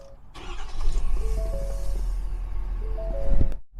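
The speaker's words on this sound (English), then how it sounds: "we got to get this motor started so you can hear it" Diesel engine of a 2021 Thor Magnitude RB34 4x4 motorhome cranking and catching, then settling into a steady, fairly close rumbling idle with a brief rev near the end before cutting off.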